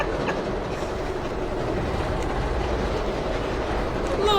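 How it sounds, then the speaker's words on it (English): A train speeding along in the movie Unbreakable gives a loud, steady rumble with continuous clickety-clack from the wheels, and a faint wheel squeal rises near the end. "Don't it feel like the train speeding up? Seems like it's going fast."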